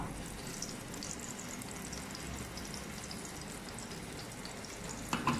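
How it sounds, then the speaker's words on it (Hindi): Beef seekh kebabs fry slowly in a pan, giving a steady, even sizzle that runs throughout at moderate loudness, with a couple of slightly sharper crackles near the end and no talking. "ये तो हमारे सीख कबाब बन रहे हैं आस्ता आस्ता।"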